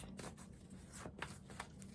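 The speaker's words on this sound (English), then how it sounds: "I'm still really awesome at shuffling" A deck of tarot cards is shuffled by hand, giving soft, quiet riffling and papery slaps in a few quick bursts against faint background hiss.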